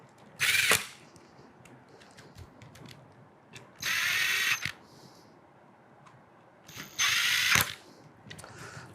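Screws are tightened on a Saffire LX-P lock with a power driver, heard as three short bursts of whirring with faint clicks and handling noise between them in a quiet room.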